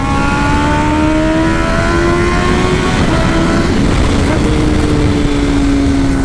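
A loud, close motorcycle engine drones at high revs, its pitch sliding steadily up and down.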